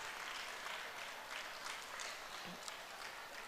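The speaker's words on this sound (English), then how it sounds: "Please greet Madam with a big round of applause." An audience applauds steadily to welcome a guest at a university innovation event, a dense, even wash of clapping sustained throughout at moderate, slightly distant level, with no talk over it.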